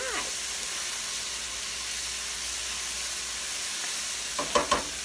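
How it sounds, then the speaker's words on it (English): Mushrooms toasting in a frying pan give a soft, steady sizzle and hiss throughout, ending with a couple of quick knocks or scrapes in the pan. "So these mushrooms are toasting up pretty nice, starting to cook."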